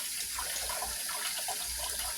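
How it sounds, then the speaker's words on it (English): Tap water runs steadily into a kitchen sink to wash raw oxtails, a continuous close splashing gush with no talking. "Let me turn that water off."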